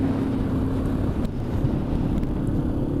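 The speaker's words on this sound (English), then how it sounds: "Bit windier up here." Steady wind buffeting a microphone on a high road in the Moroccan mountains between Ait Benhaddou and Agoudal, a constant low roar with no pauses and no talk.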